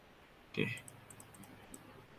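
A computer keyboard during spreadsheet formula entry, giving one distinct key press followed by a few faint, scattered taps in a quiet room.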